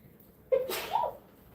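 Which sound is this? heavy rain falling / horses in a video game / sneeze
sneeze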